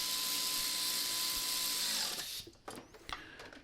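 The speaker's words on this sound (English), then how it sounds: "using a 10mm deep socket, I'm just going to whiz these bolts up" An air tool fitted with a 10mm deep socket runs exhaust manifold bolts up, buzzing loudly and steadily for about two seconds before stopping, followed by a few metallic clicks and knocks.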